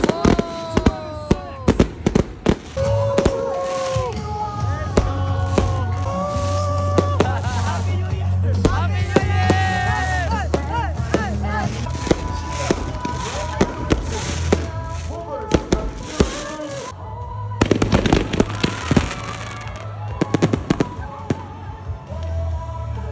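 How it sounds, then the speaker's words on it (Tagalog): Fireworks display at a grand final event in Mactan, a dense run of sharp pops and crackling bangs over about twenty seconds, with a crowd cheering and a voice talking over an amplified background. "may fireworks display na"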